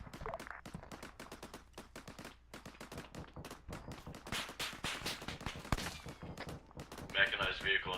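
Artillery rounds fire in the military shooter Arma 3, a rapid, continuous barrage of sharp, booming reports at mid distance, with radio chatter and talk running underneath.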